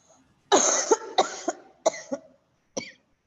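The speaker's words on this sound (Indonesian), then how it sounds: "Duh, kok batuk aku." A short burst of coughing: several harsh coughs in quick succession, a pause, then one more cough, close and loud with no speech.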